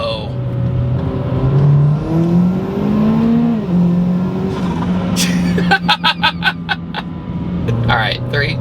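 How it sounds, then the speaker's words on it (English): A 300-horsepower Buick Encore's engine revs up and down in quick blips while downshifting, loud and close inside the cabin, with excited voices over it and a burst of sharp crackles partway through. "Now I'm gonna be downshifting"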